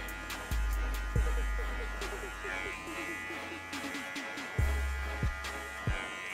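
A Chinese DINGLING electric hair clipper fading hair buzzes close up, with its motor switching on and off in several bursts and someone talking over it.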